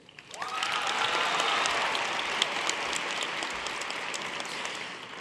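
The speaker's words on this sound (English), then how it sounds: "you should feel free to applaud for each of these students individually" A university convocation audience applauds a department valedictorian, the clapping rising quickly into a steady, dense roar of many hands that holds, then eases slightly toward the end.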